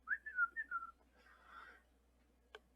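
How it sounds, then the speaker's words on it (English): A man whistles a short, faint tune of a few falling notes, followed by a softer breathy passage and a single small click at the end. "He walked away whistling"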